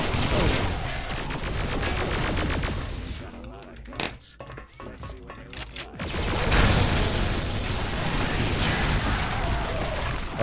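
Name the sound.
side guns firing in video game Duke Nukem Alien Armageddon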